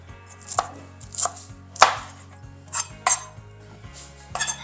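A knife repeatedly chops and shreds food on a cutting board for a taco ring, with sharp, uneven strikes and scraping passes close up and no talking.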